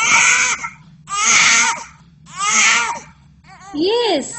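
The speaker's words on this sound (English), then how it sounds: "Yes, sound of a baby." A baby cries close by in repeated wailing bursts, each about half a second to a second long and separated by short pauses, ending in a rising and falling whimper.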